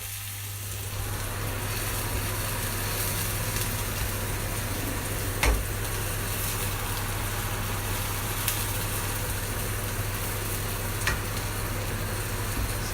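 Garlic and onion frying in a home kitchen pan for chicken noodle soup, a steady, even sizzle with occasional stirring clicks, close and continuous under a low constant hum.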